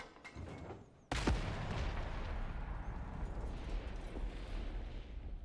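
A grenade explodes in the Darktide video game with a sudden sharp blast, then a long roaring, crackling rumble of debris and fire that slowly fades over several seconds.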